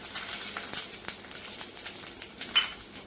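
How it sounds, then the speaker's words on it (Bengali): Chopped onion frying in oil in a pan with nigella seeds, dried red chillies and chopped garlic, a close, steady crackling sizzle with small bursts of spatter throughout. "পেঁয়াজটা 2 মিনিট লালচে লালচে করে ভেজে নিয়েছি।"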